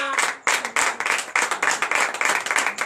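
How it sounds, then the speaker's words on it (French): A Haitian church congregation claps and applauds at a night deliverance prayer service, loud, dense and continuous, with a brief gap before the clapping swells again. "Donnez de vive acclamation à notre frère."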